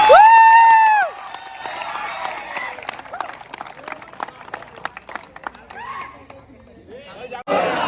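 Crowd at a Dahi Handi festival bursts into applause and cheering after a loud voice over a speaker, with scattered clapping and chatter continuing and a brief renewed roar at the end.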